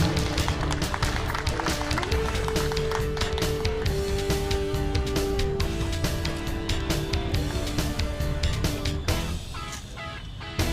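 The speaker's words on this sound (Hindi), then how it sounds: "तालियों के साथ स्वागत करें" Dense, sustained applause from a crowd at a political rally in South Delhi, welcoming a speaker. Loud clapping fills the whole stretch over steady music and tapers slightly at the end.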